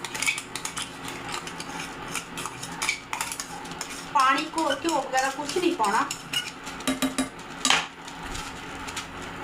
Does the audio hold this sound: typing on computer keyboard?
no